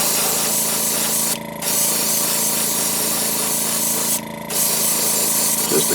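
An airbrush sprays Createx opaque black base coat onto a fishing lure, a continuous close hiss broken by two brief pauses in the spray.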